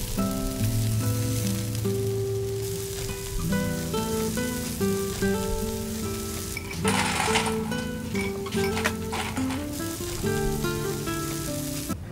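Marinated meat grills on a barbecue with a continuous crackling sizzle, heard under prominent background music throughout.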